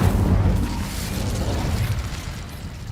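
Incendio fire spell cast in Hogwarts Legacy, a loud whooshing burst of flame with a rumbling boom that roars on for a few seconds before a final pop.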